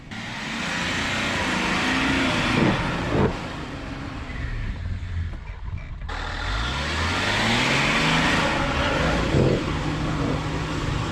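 A lifted Range Rover L322 on 35-inch tires strains up a steep sandy quarry slope, its engine loud and close, revving and labouring in rising and falling pulls that briefly dip before surging again.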